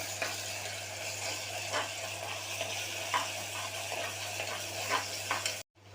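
Ginger garlic paste and onion with green chilli sizzle steadily in a pan for a tomato rice, with a few scraping stirs of a spoon over the hiss, before the sound cuts off abruptly at the end.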